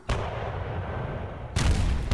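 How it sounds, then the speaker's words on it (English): Two heavy 105mm artillery blasts from the Panzer Battles Normandy war game, each a loud sudden boom. The first rumbles and decays for over a second, then the second strikes sharply and is heard on its own. "we've got some cannons there"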